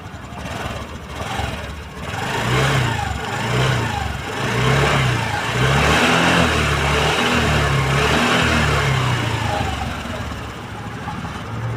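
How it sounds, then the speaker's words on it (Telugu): A 2022 Honda Activa 6G scooter in clean condition runs nearby, its engine humming steadily with gentle rises in pitch, loud and continuous with a faint voice or two in the background. "ఒక్కసారి మనం బైక్ అయితే స్టార్ట్ అయితే చేసి చూసుకున్నాం."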